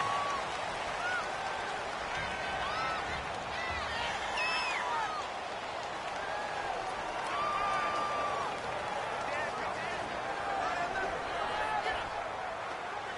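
Stadium crowd noise in an American football video game, a steady loud roar of cheering and whistling that runs continuously under a commentator's talk.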